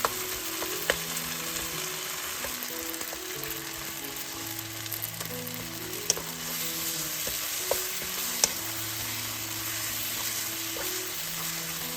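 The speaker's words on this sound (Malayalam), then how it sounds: "മൂന്ന് മിനിറ്റ് വഴറ്റിയതിനു ശേഷം തക്കാളികൾ ഒരു തവി കൊണ്ട് ഉടച്ചു ചേർക്കുക" Onions and tomatoes sautéing in a pot for Kerala-style goat curry, the tomatoes mashed with a ladle; a steady close sizzle with scattered scraping clinks and a faint humming tone running beneath.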